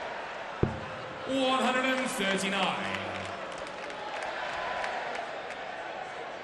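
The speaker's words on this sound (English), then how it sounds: "Crowd getting very excited." An excited crowd at a 2017 UK Open darts quarter-final between Whitlock and Gurney roars and cheers in a broad sustained wash after a sharp thump, while a commentator talks over it.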